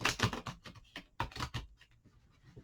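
Tarot cards are shuffled by hand in quick, crisp riffling bursts, close to the microphone, with a short pause and then a second flurry before fainter rustling.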